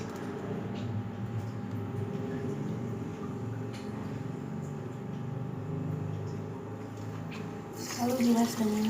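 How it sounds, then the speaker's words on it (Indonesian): Running tap water splashes steadily while hands are washed with soap at a sink, a continuous close wash that swells louder near the end, with a voice talking faintly underneath. "Cuci tangan dengan sabun dan air mengalir."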